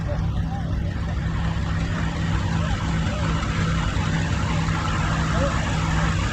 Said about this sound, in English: John Deere Model B coming through. This is an all fuel version.